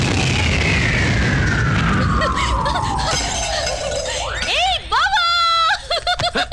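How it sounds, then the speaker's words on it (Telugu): Firecrackers in a comedy film scene: a long falling whistle leads into a loud boom and burst, followed by rising, sliding squeals and sharp pops, with voices reacting around them. "ఫోర్నాలు బాంబుల్లా ఫేలిపోయినాయి ఏంటి?"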